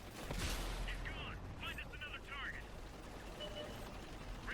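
A heavy tank cannon fires in World of Tanks on Xbox 360, a loud booming blast amid rumbling engine and battle noise, with a voice talking over the gameplay.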